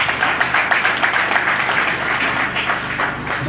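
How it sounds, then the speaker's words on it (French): An audience applauds in a Senate chamber session, a loud, dense, continuous wash of many people clapping that holds steady for a few seconds with no voices over it. "Vous nous applaudissez aussi."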